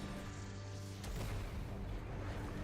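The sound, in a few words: explosion in Genshin Impact video game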